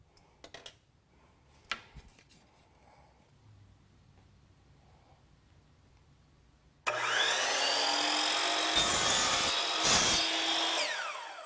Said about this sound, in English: let's transfer it to the miter saw. Now let's lock it in and make our cut.